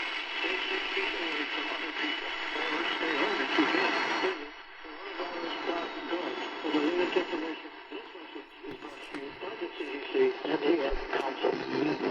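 An AM radio station, 540 WAUK from Jackson, Wisconsin, plays on an Arvin 80R77 radio through static and crackle, with a broadcast voice talking continuously and a slightly muffled, noisy tone.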